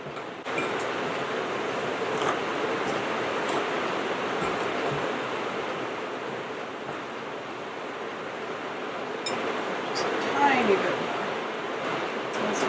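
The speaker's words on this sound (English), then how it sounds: "I don't know if you guys can hear that on the roof. It is actually pouring." Heavy rain pouring onto the roof of a tiny house, a steady, even hiss that continues without break for the whole stretch at moderate loudness, with no voices over it.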